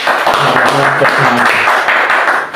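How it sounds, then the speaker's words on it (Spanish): A church audience applauds to welcome a visiting pastor, a loud, continuous clatter of hands mixed with voices that trails off at the end. "Le damos un aplauso."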